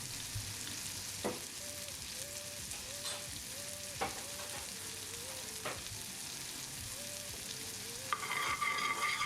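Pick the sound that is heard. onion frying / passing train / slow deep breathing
onion frying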